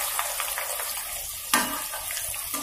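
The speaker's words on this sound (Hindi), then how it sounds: "इस तरीके से आराम आराम से इसको एक ही डायरेक्शन में इस तरीके से हमें फ्राई करते जाना है।" Sliced onions frying in hot oil for crispy fried onion, a loud continuous close sizzle with a brief stir-like clatter partway through.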